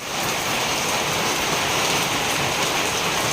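Heavy rain pours steadily and loudly, a dense hiss of drops without letup from start to finish.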